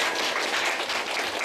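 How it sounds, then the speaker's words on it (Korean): Audience at a real estate seminar in Gangwon province claps loudly and steadily, a dense close burst of applause with no talking over it. "여러분 여기 대표님한테 큰 박수 부탁드립니다"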